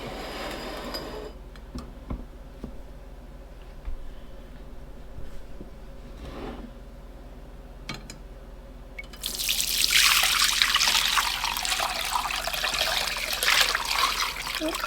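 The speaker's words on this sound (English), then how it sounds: "I figured I'd use the strainer and to strain it through" Fire cider liquid poured through a strainer into a bowl, beginning with faint drips and trickles, then a loud, steady splashing stream close by.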